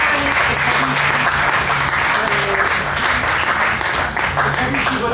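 An audience claps in loud, sustained, dense applause that runs steadily throughout, with a voice talking faintly underneath.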